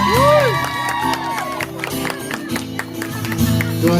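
An audience at a live band performance in Jimbaran cheers, whoops and claps loudly over music, with shouts and whistles rising throughout.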